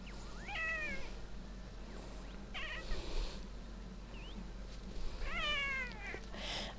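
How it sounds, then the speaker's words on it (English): A pet cat meows several times in drawn-out, wavering cries, close by, with a quiet room hum underneath and no talking. "Listen to that meow."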